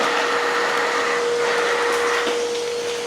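A DeWalt 6-gallon wet/dry shop vacuum runs steadily at close range, a loud continuous whine and rush of suction as it draws up debris, with no talking.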